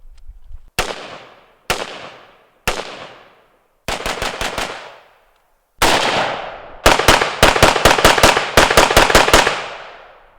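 A 5.45 carbine fires sharp, loud reports outdoors: three single shots spaced about a second apart, then rapid strings of four and later about eight shots in quick succession, each with a decaying echo.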